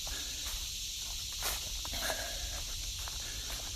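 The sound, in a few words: cicadas singing outdoors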